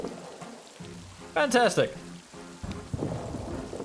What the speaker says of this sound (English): Oh, here's a heavy rain again.